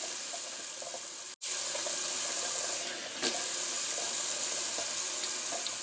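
Cold tap water running steadily into a sink while someone rinses soap off their face, a continuous close hiss broken by one brief cutoff and a small splash.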